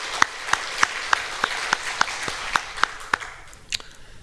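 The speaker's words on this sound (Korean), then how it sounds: "우리 주님께 영광의 박수 올려드리겠습니다" A church congregation at a Friday sermon service claps in unison, about a dozen sharp, evenly spaced claps in a steady rhythm that then loosen and trail off into a few scattered hits.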